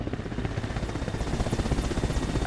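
A Soviet Mi-8 helicopter in a military video game flies close by, its steady rotor chop and droning engine filling the whole stretch with a loud, even pulsing.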